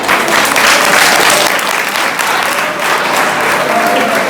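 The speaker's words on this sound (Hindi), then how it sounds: "जोरदार तालियां एक बार" Loud, energetic applause from a crowd at a college welcome party, just after a prayer to open the program; thick continuous clapping throughout, with no talking over it.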